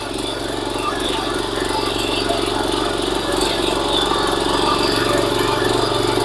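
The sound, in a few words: mini power tiller with Italian engine running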